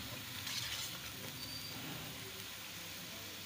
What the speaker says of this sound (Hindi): ये ऑयल में मैंने लहसुन अदरक का पेस्ट और प्याज को शामिल कर दिया। ये फ्राई हो गया।